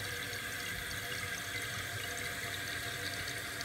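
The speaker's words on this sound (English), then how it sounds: "Keep an eye on this floater as the water is filling up." Steady rushing water refilling a toilet tank, a continuous broadband hiss with no breaks, close and fairly loud.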